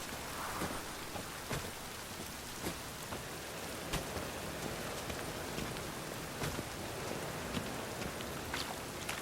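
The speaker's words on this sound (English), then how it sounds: "Rain again." Steady rain patters on surfaces in The Witcher video game, with scattered louder drops ticking through a soft constant hiss. No voices are heard.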